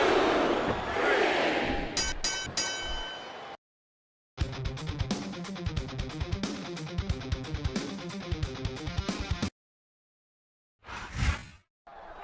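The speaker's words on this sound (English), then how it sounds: "Would you listen to that" Wrestling arena crowd in WWE SmackDown vs Raw 2007 roars and cheers in loud synthetic bursts, broken by abrupt gaps of silence and a short final swell.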